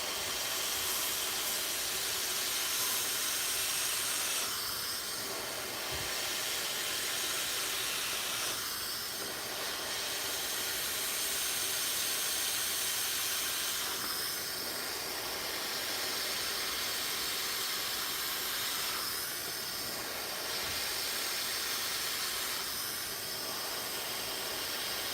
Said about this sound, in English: We're going to blow dry it